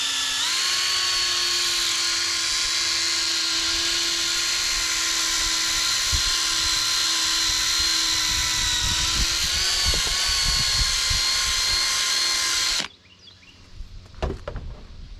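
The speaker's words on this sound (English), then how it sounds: "you get a little buffing pad here with a drill, and you just apply it to the buffing pad" A drill spins a buffing pad on plastic solar post caps, a loud steady whine with faint scraping underneath that runs about thirteen seconds, then cuts off abruptly, leaving a few quiet handling noises.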